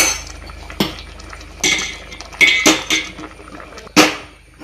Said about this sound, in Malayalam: ഒരു കടായി അടുപ്പത്ത് വെച്ചിട്ട്